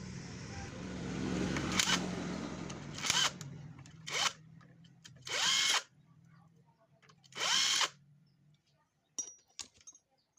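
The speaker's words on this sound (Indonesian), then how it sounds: "Oke, saya buka dulu baut 8-nya." An old Yamaha Vega or Kripton motorcycle engine has its 8 mm bolts unscrewed with a power tool: several short, close whirring bursts separated by pauses, with faint metallic clinks in between.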